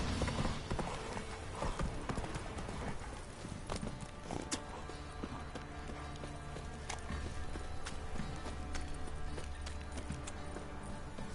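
Roach, the horse in The Witcher 3, clip-clopping along at a brisk pace, hooves thudding in a regular beat over game music and ambience, fairly close and steady.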